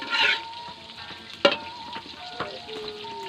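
Tilapia sizzles steadily as it fries in a pan, with a loud burst of spattering at the start and scattered sharp pops and clinks of stirring throughout; no one speaks.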